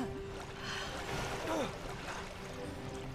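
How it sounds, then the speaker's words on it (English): Water sloshes and churns steadily inside a ship's bilge in the video game Resident Evil Revelations, a dense, continuous wash with a low hum beneath it and no clear breaks. "Oh, we're back in the bilge."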